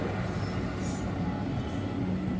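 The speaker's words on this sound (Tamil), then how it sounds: "ட்ரெயின் வந்துட்டுருக்குங்க. ரோடை கிராஸ் பண்ண போகுது." A train rumbles past close by at a railway level crossing with the gate closed, a steady heavy roll of wheels on rails with faint high squeals, continuous and loud.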